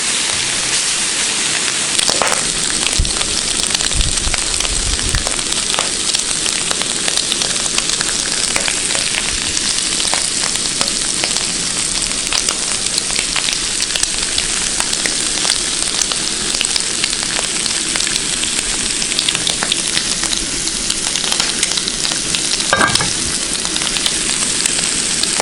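Bacon and breakfast food frying on a camp oven griddle outdoors, a steady loud broadband sizzle running unbroken throughout with occasional sharp pops and clicks.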